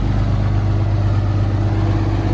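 A diesel truck engine idles close by on a snowy day, a loud, steady low rumble with an even throb that holds without change from start to finish, no voices over it.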